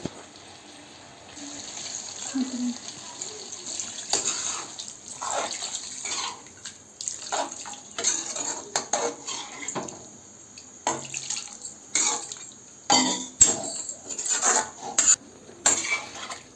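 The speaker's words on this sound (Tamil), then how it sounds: "இப்போ தேவையான அளவு தண்ணி ஊற்றிக்கலாம்" Water pours and splashes into a cooking pot in a home kitchen, with a steady running trickle broken by clinks of metal utensils and pot handling; no voices.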